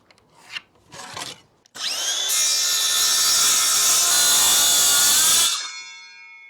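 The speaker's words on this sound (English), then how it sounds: "mark where the cut needs to go. I'll quickly do that with a circular saw" A circular saw spins up with a loud, steady whine as it cuts through a heavy-duty laminate floor board, running for several seconds before winding down, preceded by a few brief handling knocks.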